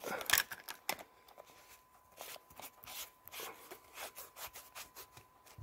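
Battery cap of a TL122D flashlight loaded with large round batteries being screwed on, a run of soft dry rubbing and scraping twists, louder at first and then a steady series of short gritty turns.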